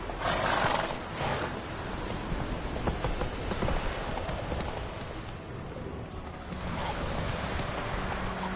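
Horse hooves clip-clop continuously in a video game, a brisk rhythmic trotting that stays fairly close throughout, with faint ambient noise underneath.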